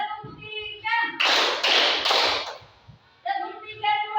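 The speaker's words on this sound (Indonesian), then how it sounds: "tepuk 1, tepuk 2, tepuk 3" Several sharp hand claps in a quick rhythmic burst in a first-grade classroom, set between stretches of someone speaking, then talk resumes.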